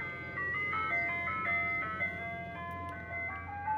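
Tinkling ice cream truck jingle playing outside, a faint melodic tune heard from a distance behind a steady low background hum.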